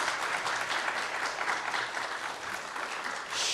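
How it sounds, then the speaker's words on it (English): A congregation at a religious gathering claps warmly for a speaker, a steady burst of many hands at moderate distance lasting a few seconds, with no voices over it. "we can clap for the speaker"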